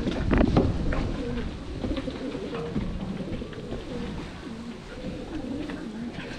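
Breeder pigeons in a loft coo repeatedly in low, throaty rolling calls, several birds overlapping close by, with a brief thump near the start and steady murmuring throughout.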